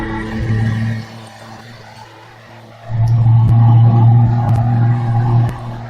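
A Barkas van loaded with crushed stone and flour pulls in gear, its engine droning with a low steady rumble that swells loudly, dips quietly for a couple of seconds, then surges back strong.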